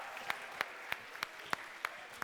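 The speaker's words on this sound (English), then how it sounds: "So give them a round of applause." Applause from the audience at a school assembly comes as sparse, evenly spaced single claps, about three per second, sharp and fairly close, with no talking over them.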